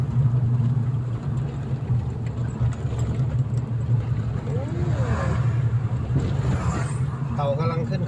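A Toyota Tiger pickup truck engine drones low and steady while driving, a constant hum running throughout with someone talking over it.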